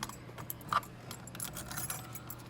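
Car keys jangle faintly inside a Fox Body Mustang with an LS engine swap, giving a few light metallic clinks over a quiet background hum in the cabin.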